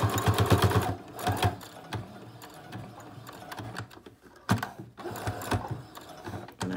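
A sewing machine stitches a pleated cotton face mask in rapid close-up bursts of mechanical chatter, pausing briefly between runs as the seam is backtracked, with no talking.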